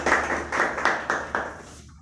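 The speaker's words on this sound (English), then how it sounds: "So please welcome Mr. Dhirendra on stage with a huge clap" An audience claps to welcome a speaker onto the stage in a small room, a short run of about six evenly spaced, fairly loud claps that fades out near the end.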